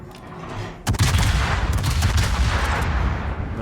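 A naval gun volley fires in World of Warships, with an abrupt loud boom followed by a rumbling, crackling roll of shots that stays dense and steady, with no talking.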